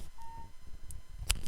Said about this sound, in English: my phone is going off